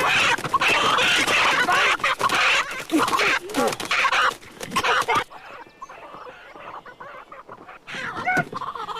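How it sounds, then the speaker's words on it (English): A chicken clucks and squawks loudly and continuously, close by, with agitated bursts, a brief near-silent lull, then more clucking; no speech. "Chicken."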